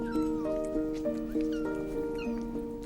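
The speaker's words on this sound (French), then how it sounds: "Une portée de chatons." Two newborn kittens, about a day old, give repeated thin, high meows in a steady rhythm, roughly one every third of a second. The cries are close, faint and heard alone without talk.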